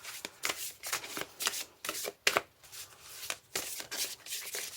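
A deck of oracle cards is shuffled by hand, with a series of crisp, rapid riffling bursts repeating several times close up, no talking.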